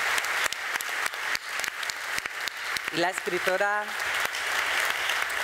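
Sustained audience applause, steady and full, at a tribute event in a hall, while someone speaks briefly over it through a loudspeaker.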